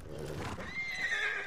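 A horse whinnies in the Ghost of Tsushima video game, a faint, wavering neigh rising in pitch over soft background ambience.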